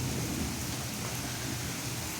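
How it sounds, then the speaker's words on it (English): Heavy rain roars steadily against a window in a dense, unbroken wash, with a low rumble underneath like a storm pounding close by. "a rain like this, it just pounds my window."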